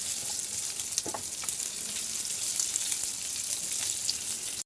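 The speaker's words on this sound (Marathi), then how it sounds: "पलटून पलटून चांगली कारली भाजून घ्यायचे" Bitter gourd pan-roasting on a stovetop gives a steady, soft sizzle throughout, broken by a few faint scrapes and taps as a spoon turns the pieces; no voices.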